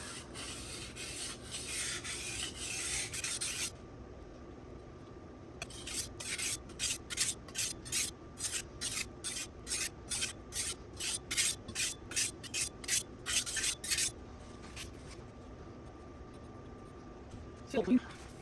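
A kitchen knife is stroked across a Bernal Cutlery Takarazukushi or Nubatama sharpening whetstone in a steady run of about eighteen close, rhythmic rasping passes, with quieter handling noise before and after.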